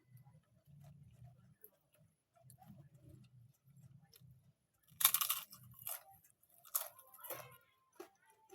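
Someone chewing crunchy basreng, a fried fish-cake snack, close to the mouth with soft repeated crunches, then a few louder sharp crackling bites.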